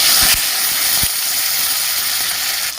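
Chopped tomatoes tipped into hot oil already crackling with black cumin seeds, a loud steady sizzle throughout with a couple of brief clatters near the start and middle.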